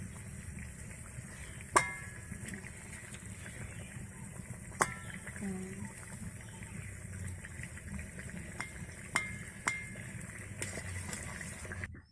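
A pot of fish and mango sour curry simmering quietly on a stove, a soft low bubbling bed broken by a few sharp clinks of utensils against the pot at irregular intervals.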